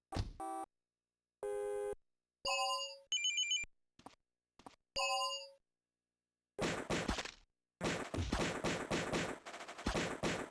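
Retro video game gunfire arrives in chunky bursts: first synthetic tonal beeps and blips with silent gaps, then noisy rapid-fire shooting that swells loudly near the end.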